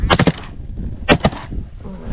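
Gunfire during a snow goose hunt in Saskatchewan, with two sharp, loud bursts of shots about a second apart and rough outdoor noise between them.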